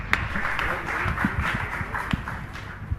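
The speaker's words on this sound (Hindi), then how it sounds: "एक बार ताली का सम्मान चाहूंगा।" An audience at a religious discourse event claps in a thin, uneven patter of scattered handclaps with a few sharper claps standing out over a hum.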